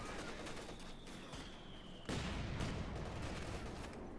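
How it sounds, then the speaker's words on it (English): Gunfire crackles through a Company of Heroes 2 match as an anti-tank gun shoots at a bunker, with a sharp louder blast about halfway that lifts the din, amid scattered small arms and machine gun bursts. "Bunker being shot at by the anti-tank."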